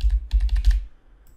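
A password goes in on a computer keyboard: a quick run of about six or seven close, light key clicks, then a short pause and quiet, with no talking.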